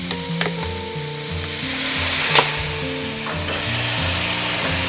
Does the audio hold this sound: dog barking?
no